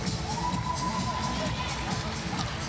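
Spectators at a taekwondo world grand prix event cheering and shouting in an indoor arena, a steady crowd roar with mixed voices, moderately loud, with indistinct talk woven through.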